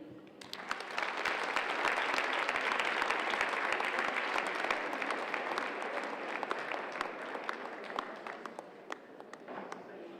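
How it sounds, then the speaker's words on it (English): Sustained applause from a large convention audience, loud and dense clapping that holds steady for several seconds before slowly thinning toward the end. "one more big round of applause"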